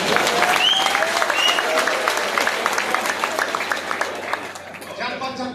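Sustained clapping from an audience at a Hindi kavi sammelan poetry gathering, a dense and fairly loud roll that thins slightly toward the end.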